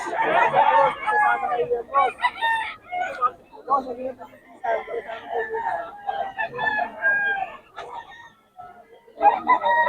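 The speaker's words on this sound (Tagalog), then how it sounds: "Maganda ng mga manok ni boss." Chickens cluck and crow repeatedly up close at a market in Bocaue, a busy, continuous flock sound with people chatting underneath.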